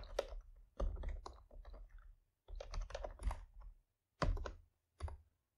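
Rapid keyboard typing in bursts with short pauses, clicking keys of a computer keyboard while entering JavaScript code for a web page, close and fairly quiet with no voice.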